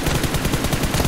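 Rapid gunfire from the mobile battle royale game PUBG Mobile Lite rattles out as a fast, evenly spaced burst of loud, close shots with no pauses.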